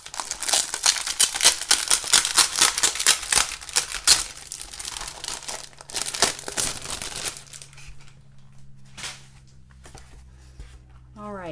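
Packaging on a Happy Planner weekly-view desk calendar with stickers is opened by hand: dense, close crinkling and tearing for several seconds, then quieter rustles as a voice speaks.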